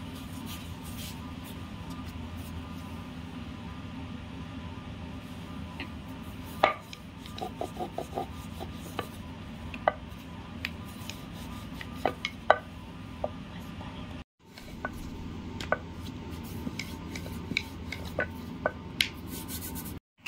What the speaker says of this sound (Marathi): आता छोटे छोटे गोळे घेऊ आणि लाटून घेते